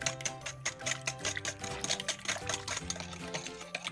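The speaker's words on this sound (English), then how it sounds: "As you keep on stirring, you'll hear the scratching sound of the sugar gets less and less." Sugar for a lemon meringue pie filling scratches against the pan as it is stirred, making a rapid, rhythmic gritty scraping close by and continuous throughout.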